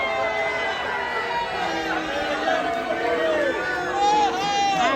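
A crowd of protesters at a Brighton street protest, many voices chattering and shouting over one another nearby in a dense, agitated babble, with a few raised calls rising above the din.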